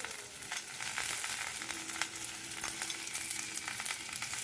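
Okra pieces frying in oil in a thick-bottomed pan, a bright continuous sizzle with light stirring scrapes and taps, quiet and close without talk.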